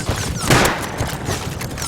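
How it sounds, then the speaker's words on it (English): A helicopter missile run in the Rust video game hits as a loud, dense burst of explosive booms and crashes. The barrage peaks briefly in the middle, then the impacts carry on. "Yeah, that's a missile run."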